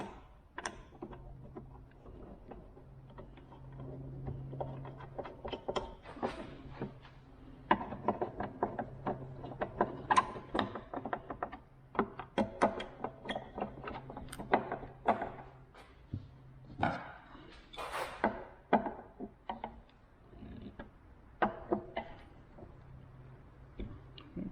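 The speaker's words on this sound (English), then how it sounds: "Next thing I need to do is put this latch assembly back on here" Metal latch assembly being fitted back onto a Vulcan 900 motorcycle, with a long run of irregular clicks, scrapes and small clanks of parts and tools close by, some busy stretches and brief pauses.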